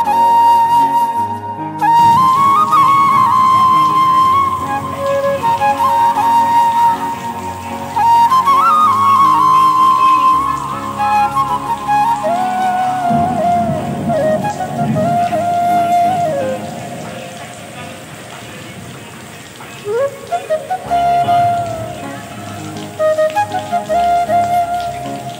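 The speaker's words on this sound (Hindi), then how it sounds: "अभी बारिश रुकने का नाम ही नहीं ले रहे यार" Steady heavy rain falling continuously and loudly, a dense unbroken wash under layered music or tonal sounds throughout, with no talk.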